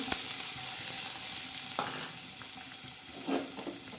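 Curry leaves stirred through hot oil in a pan for a spicy peanut and green chili usal, a steady bright crackling sizzle throughout with a few soft scrapes of the spoon.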